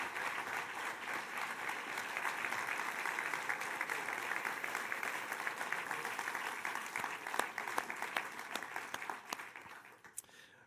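An audience applauds after a talk with dense, steady clapping that holds for several seconds, then thins into scattered claps and fades away at the end.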